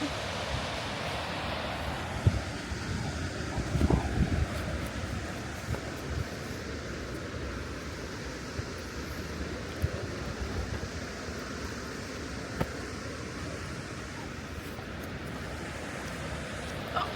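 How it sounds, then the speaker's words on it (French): Continuous waterfall rushing water roars broadly and steadily in Canada, with some wind buffeting the microphone and no speech. "On s'approche doucement des cascades."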